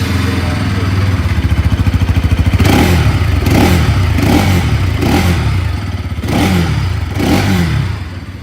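A Bajaj Pulsar NS motorcycle engine idles with a fast, throbbing beat, then revs loudly about five times in quick, repeated blips, close to the listener.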